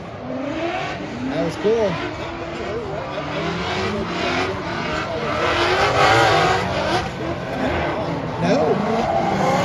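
Ford Mustang racing hard with its inside tire locked up under braking: a loud engine roar with squealing tires and rising, falling revs, while people talk over it.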